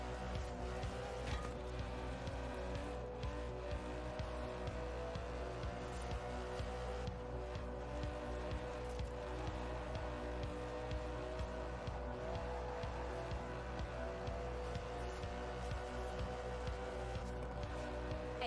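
An Aston Martin DB11's 5.2-litre twin-turbo V12 drones at a steady, sustained pitch in a racing game, a continuous engine hum with faint tyre and road noise and no talk over it.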